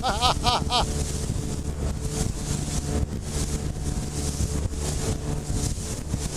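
A 20-horsepower outboard motor on a 4.5-metre boat drones steadily beneath heavy wind buffeting the microphone on a rough sea, with a brief voice-like chirp at the start.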